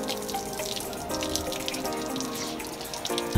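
Water runs steadily from a tap while someone rinses off, a continuous splashing hiss that holds at an even level for several seconds, with no voices over it.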